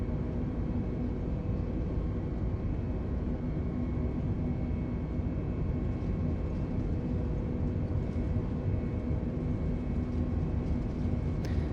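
Airbus A320 in Microsoft Flight Simulator on Xbox holding on the runway before takeoff, a steady, even jet engine roar with a faint constant hum throughout and no change in loudness, with no talk.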